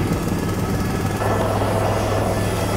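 A passenger aircraft flying very low over Lake Como gives a loud, steady engine drone with a throbbing low hum that stays constant throughout, close and dominant, without talking.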